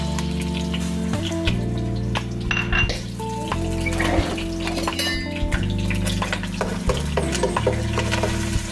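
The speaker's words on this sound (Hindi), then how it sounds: "इसको तेल में फ्राई कर लूँगी लहसुन अदरक को।" Garlic and ginger sizzle in hot oil while a utensil scrapes and clatters against the pan in steady stirring, close and busy.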